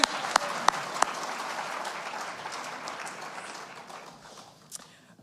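Sustained applause from a crowd at an awards concert, a few sharp claps standing out at the start, gradually thinning toward the end.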